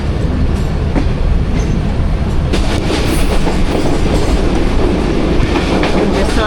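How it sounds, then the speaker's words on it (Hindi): The Jaffar Express 40 Down passenger train rolls past on a sharp curve, a loud, continuous rumble with rhythmic clatter of wheels on rail, close by throughout. "पास हो रही है हमारी 40 डाउन जाफर एक्सप्रेस"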